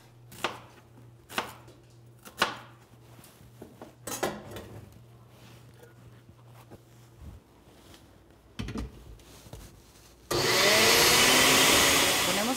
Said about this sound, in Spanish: moler el jitomate, la cebolla y el ajo en la licuadora